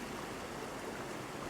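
A rapid, flooded creek in northern Alabama rushes steadily after heavy rain, giving off a dense, even hiss of flowing water, faint and continuous.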